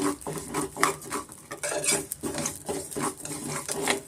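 Sago pearls frying and being stirred in ghee in a pan for jaggery sabakki payasa, giving a steady close scraping and clinking of a spoon against metal with a soft sizzle underneath, continuous and moderately loud, with no voices.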